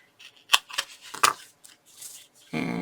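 Double-sided adhesive tape being trimmed at an angle with scissors, a few sharp snipping clicks and faint rustles, followed by a voice starting to speak.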